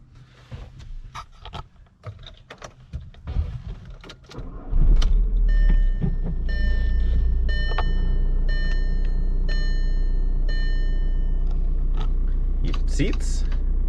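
A 2005 Volkswagen Jetta TDI wagon diesel engine cranks and fires up partway through, then settles into a steady, loud idle, with some shuffling sounds before the start.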